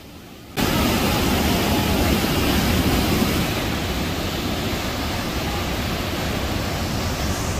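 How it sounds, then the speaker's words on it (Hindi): A waterfall, Devi's Falls in Pokhara, Nepal, roars as a loud, steady broadband rush. It cuts in abruptly after a brief quiet moment and continues unbroken, with no voices. "देवी का जल झरना पोखरा शहर के दर्शनीय स्थलों में से एक है"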